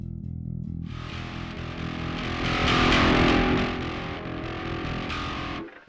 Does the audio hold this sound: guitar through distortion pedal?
yes